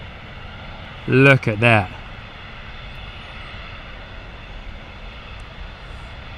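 An Emirates Boeing 747 departing Stansted and banking left produces a steady distant engine rumble and wide broadband roar; a person speaks briefly over it near the start.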